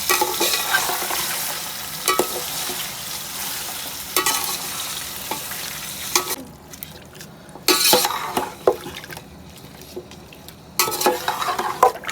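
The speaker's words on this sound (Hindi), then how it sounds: "पाँच मिनट तक तो इसको अच्छी तरह हम भून लेते हैं।" Meat for a korma browning in a pan, a loud steady sizzle with spoon scrapes and clinks against the pot, briefly easing before surging again, close up with no talking.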